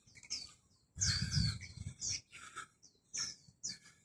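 Several short, bright bird chirps and tweets in quick, irregular bursts, close by, with brief silences between calls.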